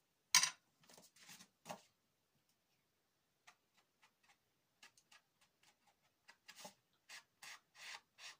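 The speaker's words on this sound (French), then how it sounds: "je vais gommer le petit trait" An eraser rubs out a small pencil line on paper during album crafting, giving short, close, dry scrubbing bursts in quick back-and-forth strokes separated by quiet pauses.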